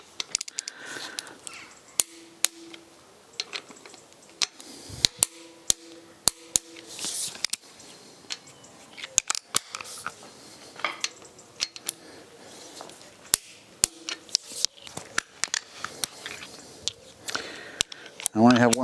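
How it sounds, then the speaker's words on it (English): A torque wrench clicks sharply while tightening engine cylinder head bolts on an old rusty engine rebuild, a series of close, crisp ratchet clicks and snaps in irregular bursts, with someone talking between them. "So now I'm going to torque him down to the first setting, which is 3 kilograms."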